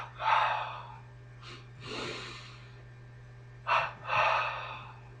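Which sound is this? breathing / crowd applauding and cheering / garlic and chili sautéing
breathing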